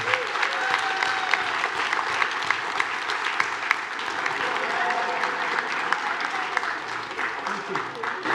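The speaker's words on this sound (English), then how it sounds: "This young lady deserves a massive round of applause." A church congregation at a Mothering Sunday service applauds a young lady, a full, sustained round of clapping from many people that holds steady at moderate loudness, with a few sharper individual claps standing out.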